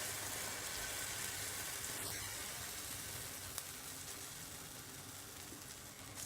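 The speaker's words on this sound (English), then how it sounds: "let it fry golden brown on each side" Courgette fritter mixture frying in hot olive oil in a pan over a medium flame, giving a steady, close sizzle with a continuous hiss and no talk.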